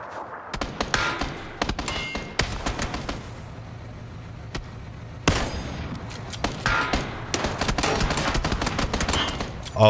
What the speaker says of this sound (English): A lot of shots coming out onto the vehicle here.